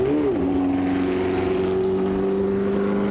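A 12-cylinder Matra racing car at a Goodwood Members' Meeting, heard as a loud, steady high-pitched engine drone with a brief pitch dip near the start, holding a sustained tone throughout with no talk.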